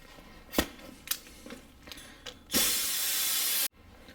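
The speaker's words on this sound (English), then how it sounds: "What I like to do is use my angle die grinder here." A pneumatic angle die grinder on an air line smooths a freshly cut car coil spring, giving a loud steady hiss of about a second after a few faint scrapes and clicks, then stopping abruptly.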